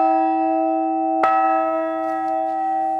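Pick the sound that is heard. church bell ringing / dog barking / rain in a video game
church bell ringing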